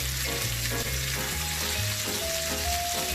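Pork chop fat frying in a pan, a loud continuous sizzle and crackle close up, with low hums and faint tonal whines running underneath.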